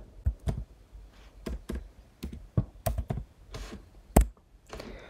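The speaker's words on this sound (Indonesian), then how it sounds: "Jadi di sini ketikkan dulu dokumen kelasnya." Clicky keystrokes on a computer keyboard, irregular taps in quick clusters with short gaps, close and fairly loud, no talking.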